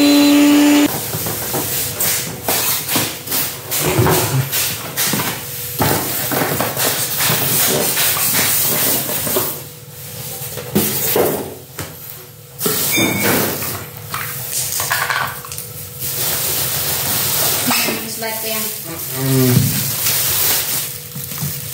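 A Cosmos CB-282G blender motor runs with air rushing through its vents, making a continuous broad hiss and whoosh broken by scattered clicks and knocks.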